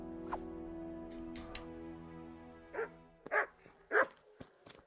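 A dog barks in the video game Kingdom Come: Deliverance: three loud, close barks in quick succession come after a stretch of steady tonal game ambience, with a few sharp clicks toward the end.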